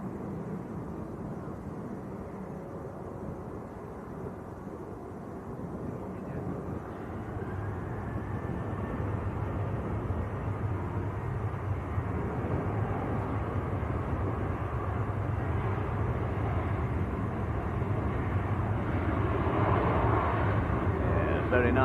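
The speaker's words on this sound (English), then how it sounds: "There's the Virgin A380 just banking round." A Virgin Airbus A380 airliner banks round after departing Manchester Airport, its distant jet roar swelling steadily louder while people talk over it.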